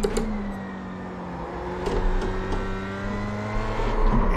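An F3 race car in iRacing is driven through turns at speed on cold tires, its engine droning steadily with rising and falling revs, continuous and fairly close, with no talk.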